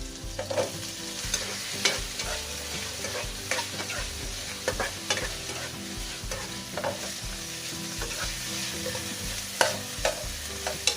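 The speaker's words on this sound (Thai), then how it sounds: "ตอนนี้เราก็จะใส่มะเขือลงไปนะคะ" Chunks of eggplant stir-fried with pork belly in a hot pan for a Thai pad cha, with steady sizzling and frying and repeated scraping stir strokes of a spatula, close and continuous with no talk.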